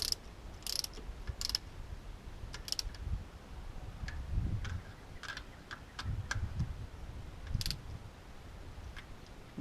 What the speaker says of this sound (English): So I've got my deep socket to allow me to get over that long bolt